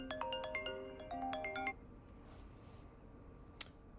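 A telephone rings in a garage being insulated, a short electronic ringtone melody of quick repeated tones for under two seconds, then a quieter pause with a brief click near the end.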